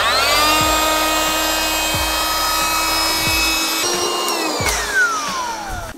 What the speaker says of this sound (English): Now all I have to do is hook up a little rechargeable pump like this to that port.